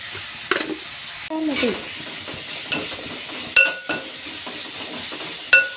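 Onions sprinkled with salt are sautéed in a pan for a Kerala-style beef curry, with irregular scraping stir strokes over a steady close sizzle and a few sharp utensil clinks against the pan.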